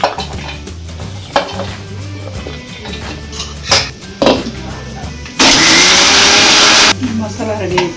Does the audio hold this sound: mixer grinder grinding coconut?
yes